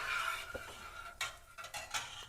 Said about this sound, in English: So I'm just going to start stirring this.